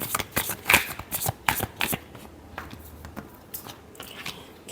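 Tarot cards are riffled and shuffled by hand at close range, a series of quick crisp papery flicks and snaps in uneven bursts, fairly faint, with no voice.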